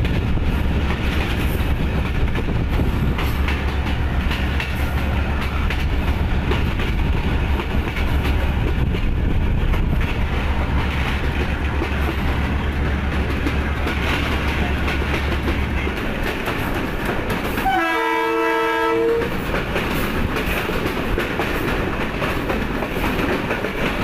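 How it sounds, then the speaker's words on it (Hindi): A PDK shuttle train travels from Malakwal to Pind Dadan Khan through barren farmland, giving a loud, continuous rumble with steady rail clatter close by and a brief high tonal squeal near the end. "एक बंजर ज़मीन में ट्रेन अपना सफ़र कर रही है।"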